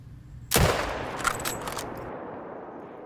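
A single loud rifle shot fired at a moose in the hunting game theHunter: Call of the Wild, a sharp close crack followed by a long rolling echo that slowly fades over a quiet outdoor background.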